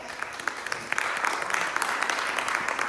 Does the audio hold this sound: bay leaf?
no